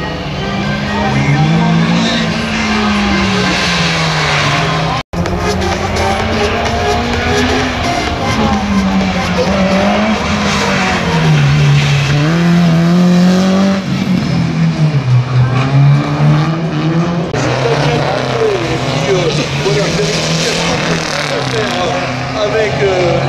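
A race car runs a slalom course at Saint-Lô, its engine loud and close, rising and falling through repeated throttle and gear changes, with a commentator talking over the engine throughout.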